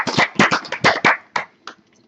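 Scattered, uneven claps from a small audience at the start of a lecture, about a dozen sharp hand strikes that thin out and fade toward the end.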